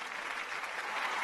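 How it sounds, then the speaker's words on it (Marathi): An audience on a Marathi TV music competition stage claps for a musician, a brief burst of dense, steady applause from a crowd that swells slightly toward the end. "एकदा जोरदार टाळ्या झाल्या पाहिजेत."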